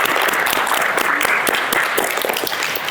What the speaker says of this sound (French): Vous pouvez vous applaudir bien fort.